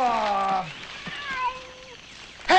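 A cat meows with several drawn-out, wavering cries at the start, then quieter mewing follows, with a voice calling out at the end.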